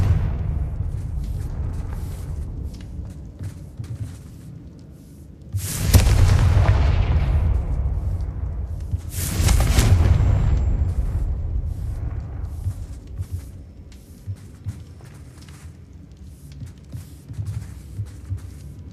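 Two Confringo fire spells explode in the video game Hogwarts Legacy, each a loud booming burst that rumbles and fades over a few seconds, set against a low, steady game soundscape.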